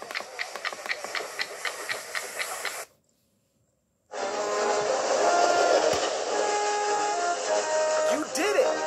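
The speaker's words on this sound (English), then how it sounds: "You are really helping Thomas chug ahead." In the Thomas & Spencer racing video game, a cartoon steam engine chugs in quick regular puffs, stops for about a second of silence, then gives way to a steady hiss and rolling train noise with music-like tones over it.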